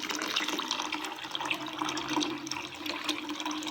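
Liquid poured into a cooking pot at an outdoor forest cookout, a continuous splashing, gurgling stream heard close and fairly steady throughout.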